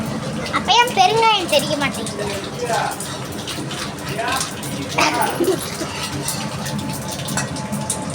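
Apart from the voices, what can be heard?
mustard seeds spluttering in hot oil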